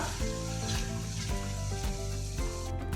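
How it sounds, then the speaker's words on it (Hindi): Camel meat frying in oil for nihari, a continuous close sizzle with regular scraping stirs roughly every half second and no talk. "गोश्त बहुत अच्छा फ्राई हो चुका है"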